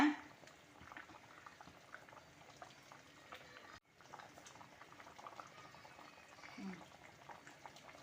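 Sankara fish curry (kulambu) simmers in a pot over low heat, giving a steady, soft bubbling that runs continuously and fairly faint throughout.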